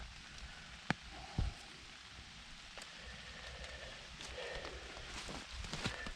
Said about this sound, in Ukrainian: дощ паде